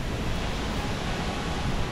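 A large waterfall roars as a dense, steady rush of falling water, loud and unbroken throughout with no voices.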